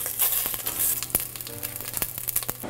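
Large pierogies frying in olive oil, a close, moderately loud crackling sizzle with scattered sharp pops and clicks of a utensil throughout.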